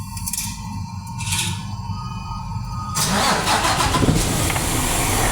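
The Isuzu 6WG1 diesel engine of a truck cranks briefly, then fires and settles into a loud, steady idle clatter, heard up close with no talk.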